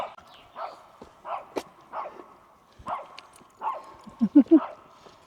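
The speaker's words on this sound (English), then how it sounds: "the dog barking its head off there" A dog barks repeatedly on a forest trail, a series of separate woofs spaced about half a second to a second apart, ending in a quicker, louder burst of yips; it sounds moderately near, with no talk over it.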